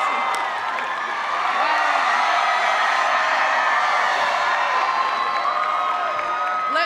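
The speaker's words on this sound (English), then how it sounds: "Let's give them all a round of applause." A large rally crowd in Ohio cheers, whoops and applauds in a steady, loud, continuous wash that carries on for several seconds with no break.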